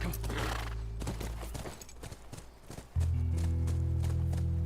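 A horse at a ranch in the video game The Last of Us, with clear hoof clip-clops and a whinny up close, followed by a steady low in-game ambient drone.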